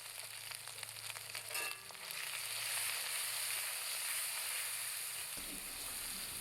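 Ground spice paste of whole chillies, coriander and cumin hits hot oil with turmeric, starting with a burst of sizzle that settles into a steady, moderately loud frying hiss, close by, with a few light stirring sounds and no speech.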